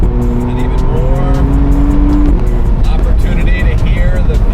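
A 2025 McLaren Artura Spider hybrid supercar drives past with engine note rising through gears and tires squealing, loud and close, while a person talks over it.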